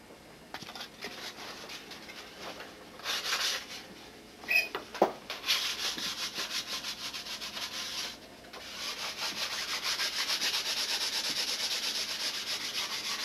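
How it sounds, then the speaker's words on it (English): Sanding block rubbing back and forth over a taped area on a 1987 Nobler model, a dry rasping scrape in steady strokes, close and fairly loud, growing continuous toward the end. "Okay, and get out the old sanding block."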